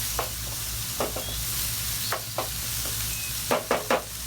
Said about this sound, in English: Throw in those peppers and throw in that onion, and let that start cooking.